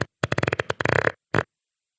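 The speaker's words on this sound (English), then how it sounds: "I just farted." A man produces a rapid string of sputtering fart sounds, a close, loud burst of pulses followed by one shorter final blast and then silence.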